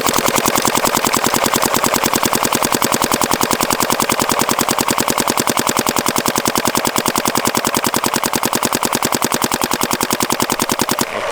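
Planet Eclipse Geo R5 paintball marker fitted with a Twister Vortex bolt fires a long, unbroken string of rapid, evenly spaced loud cracks, sustained for over ten seconds before stopping abruptly.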